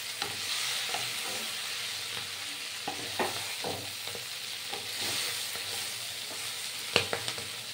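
Grated ginger frying with poi greens and spices in a pan, a gentle steady sizzle under intermittent spatula scrapes and taps, close by, with a sharper knock near the end.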